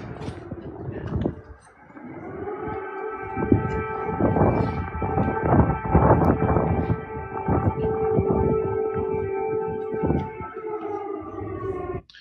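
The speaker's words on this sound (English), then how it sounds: "Here they are doing a little photo op as some air sirens go off." Air raid sirens wail across Kyiv, a loud sustained rising and falling tone that fills the whole stretch, distant and echoing over the city with rumbling background noise.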